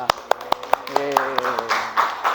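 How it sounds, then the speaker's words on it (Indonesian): A classroom audience claps for a student group, starting with a few sharp, evenly spaced claps that soon loosen into scattered clapping, with voices and cheering mixed in. "Tepuk tangan untuk kelompok 2."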